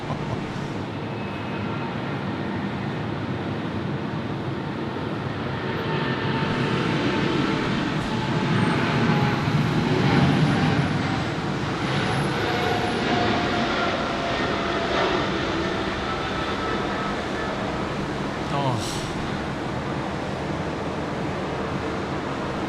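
A Philippine airliner taking off down a runway at Sydney Airport in heavy rain, a broad sustained engine roar swelling to its loudest midway and then easing, set against the constant hiss of rainfall.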